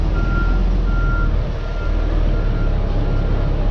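A truck's reversing beeper chirps in short, evenly spaced tones while backing toward a loading dock at a port, riding over a loud, steady diesel engine rumble.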